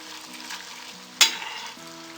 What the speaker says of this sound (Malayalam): മീഡിയം ഫ്ലെയിമിൽ കൂടെ കൂടെ ഇളക്കി കൊടുത്ത് ഫ്രൈ ചെയ്തെടുക്കണം